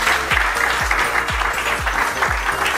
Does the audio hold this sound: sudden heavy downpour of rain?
no